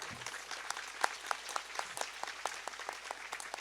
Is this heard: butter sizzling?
no